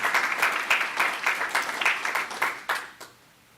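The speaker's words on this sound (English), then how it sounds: "So one more time, a round of applause for all of these folks" A school board meeting audience claps in a brief round of applause, a fairly small group with distinct individual claps that thin out and stop near the end.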